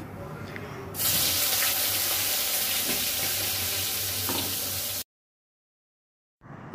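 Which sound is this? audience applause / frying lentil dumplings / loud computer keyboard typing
frying lentil dumplings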